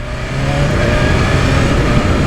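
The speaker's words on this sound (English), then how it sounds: "I can hear the engine more than I can hear the exhaust" A motorcycle engine runs loud and close, a steady droning roar with a constant low rumble and no breaks, engine noise dominating over the exhaust.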